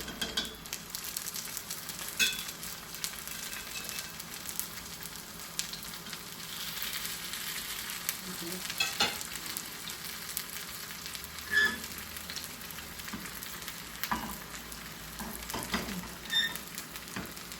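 Green pea and potato tikki patties fry in a pan, with a steady, close crackling sizzle and a few louder pops, and no talking over it.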